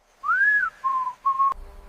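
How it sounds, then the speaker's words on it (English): Dholes, wild dogs, give three clear whistles: first a rising and falling call, then two shorter level ones, close and fairly loud against a quiet evening background, ending with a sharp click. "As evening approaches, the whistles return, signals that help keep this social world connected."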